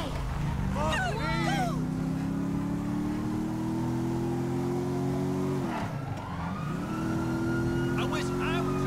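Car driving in GTA 5 with a loud, steady engine drone whose pitch rises slowly and dips briefly near the end, close and continuous, with short voice-like bursts over it.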